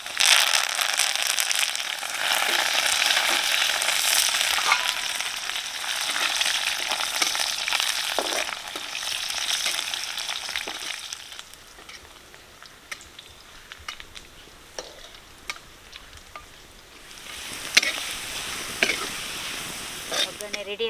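Curry leaves, mustard seeds and garlic crackle and sizzle in hot oil for a village-style pickle tempering, a dense spitting fry that is loud at first, eases midway, then flares again near the end, with occasional faint voice.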